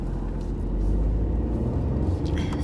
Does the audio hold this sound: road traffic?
yes